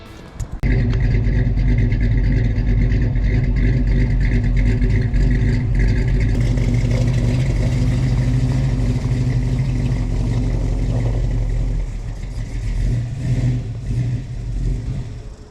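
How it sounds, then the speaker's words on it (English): A Chevy 350 V8 in a vintage Toyota Land Cruiser FJ60 rumbles loudly and steadily with a deep, fresh exhaust note while driving, revving slightly, close and continuous, with no voices. "That fresh exhaust, wow, it just got me going."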